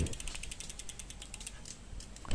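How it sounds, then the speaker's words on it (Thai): Rapid, fine mechanical clicking from the freehub ratchet of a KAZE Machi 2023 folding bicycle spinning, a steady buzzing tick up close that ends with a louder clunk. "เสียงโม่เพราะไหมครับเสียงโม่"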